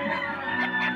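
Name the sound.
chicken clucking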